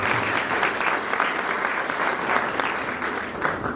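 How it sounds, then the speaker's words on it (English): Continuous applause from a university crowd during a royal visit, dense clapping sustained evenly throughout at moderate distance. "Please give them all a round of applause."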